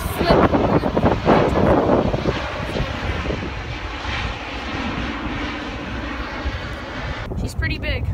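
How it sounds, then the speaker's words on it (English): A loud propeller aircraft engine in reverse thrust roars up, then settles into a steady, rushing drone with wind noise, gradually easing off, at Vancouver airport. "Reverse. You know what reverse does on propeller planes?"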